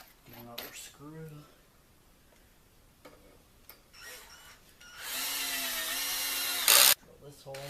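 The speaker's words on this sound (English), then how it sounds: "Now I can get this drill. Take it, drill a hole right here." Power drill boring a hole in wood during model railroad track construction, a sustained whirring burst near the end after quieter handling clicks and taps, with talk before it.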